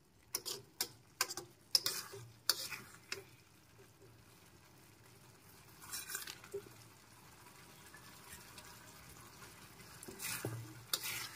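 Bori lentil dumplings dropped into frying bottle gourd and stirred in a pan, giving a series of sharp, close clattering knocks and scrapes over a quiet, steady sizzle, with a softer burst of stirring later on.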